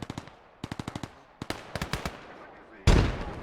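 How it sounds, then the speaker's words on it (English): Rapid bursts of gunfire in the World War II shooter Gates of Hell: Ostfront, with a louder, broader blast near the end that fits a grenade going off. Close and sharp, with no talk over it. "Lobbing the grenades is making these guys stand up as well."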